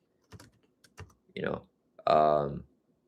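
A computer keyboard is tapped in a few separate close clicks, followed by a louder burst of sound with harmonic, voice-like structure at the end; clear and up front.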